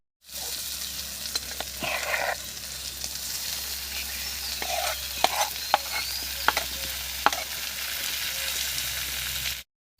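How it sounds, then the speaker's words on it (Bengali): Marinated boreli fish frying with tomatoes in a wok, a constant bright sizzle broken by a few sharp clicks and scraping knocks as the pan is handled, with no talking. "মেখে রাখা মাছটা দিয়েছি, তবে এবার কিন্তু নাড়াবো না, এমনি কড়াইতে একটু ঝাঁকি দিয়ে উল্টে দেব।"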